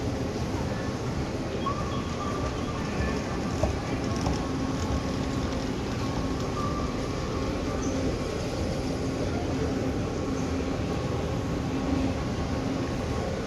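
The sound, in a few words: Dubai Metro train at Union station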